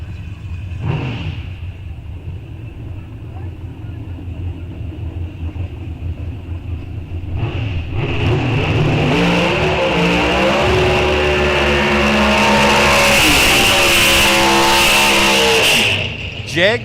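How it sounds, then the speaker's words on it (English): Drag racing engines run and rev at Rock Falls Raceway during an NHRA National Open, starting as a low idling rumble, then swelling into a loud, roaring rev with a burnout that holds to the end; a commentator talks underneath. "And I hear engines running."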